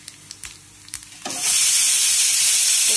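Cumin and mustard seeds hit hot oil, a few light ticks and pops first, then a loud, sudden rush of sizzling hiss that holds steady and close.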